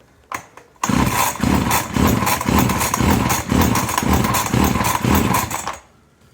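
A small two-stroke engine, the kind found on a chainsaw, brush cutter, hedge trimmer or blower, is cranked hard by its pull starter for a compression test, giving a loud, rhythmic chugging about five pulls long that stops sharply.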